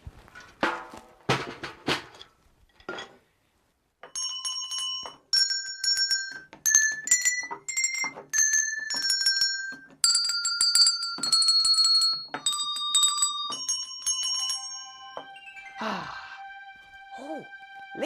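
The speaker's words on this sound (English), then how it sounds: "I also found some bells." Small bells ring out clearly in a series of bright, sustained tones, some struck singly and some in quick clusters, near and fairly loud, with brief gaps of quiet between groups.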